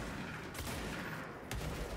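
Enemies exploding in the video game Control, a dense, muffled barrage of blasts and crackling booms, with two sharper bursts standing out in a short, continuous stretch of combat noise.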